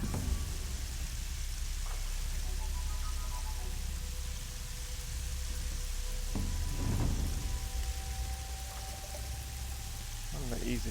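Steady rain pours in the game Horizon Zero Dawn, a dense continuous hiss with low rumbling thunder rolling underneath and a few brief tonal game cues over the top.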